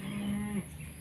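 Farm livestock let out of the pen on a village morning, sheep among them, give a single short, loud lowing moo up close, followed by faint rustling background.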